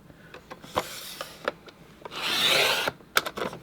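Scrapbook paper is cut through by hand in short scraping strokes, with scattered sharp ticks and one longer rasping drag near the end, close and fairly quiet.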